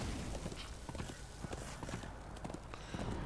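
Horse hooves clop at a quick, steady trot while riding in Darksiders II, a rhythmic patter of hoofbeats against a busy background of game ambience.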